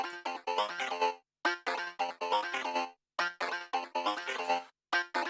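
A choppy synthesizer sequence plays short bright notes in a steady rhythm, with some notes accented louder and brief gaps between phrases.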